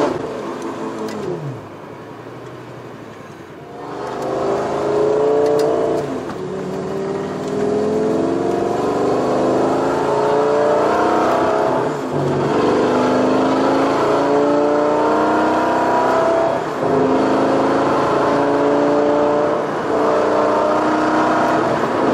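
A Lamborghini Gallardo cruising on the freeway, its engine droning steadily with rising and falling pitch as it accelerates through gears, loud and continuous with road and wind noise throughout.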